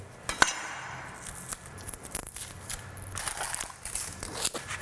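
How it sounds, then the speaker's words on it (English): A knife chops through a very large onion on a board, giving a few sharp, irregular taps and knocks with light clinks and shuffling around them and no voice. "we might as well chop up this big onion"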